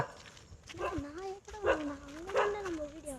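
A puppy yaps and whimpers in a few short high-pitched bursts close by, while people talk over it.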